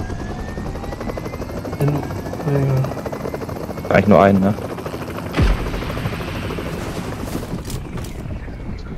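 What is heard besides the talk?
helicopter in video game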